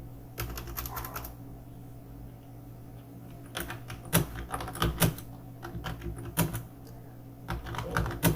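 Keystrokes on a computer keyboard as a ChatGPT prompt is typed, coming in quick bursts of clicks separated by short pauses, close and fairly quiet over a steady low hum.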